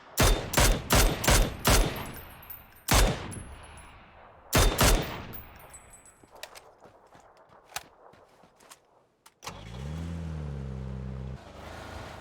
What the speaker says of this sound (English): And Sosny boy and his team tries to take some shots.